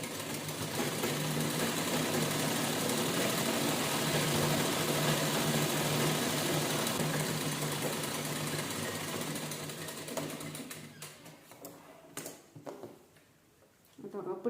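Sewing machine top-stitching the waistband strip of a blouse, a steady close mechanical whir running for about ten seconds before slowing into scattered clicks and handling noises.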